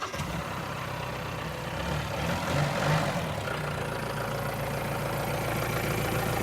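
A Mahindra 2.5-litre four-cylinder diesel engine idles with a steady, low rumbling drone, moderately loud and unchanging throughout, with no talking over it.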